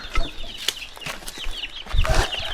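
Hens cluck and chirp steadily nearby while being fed on a farm, with several birds calling over one another amid light scratching and pecking noises.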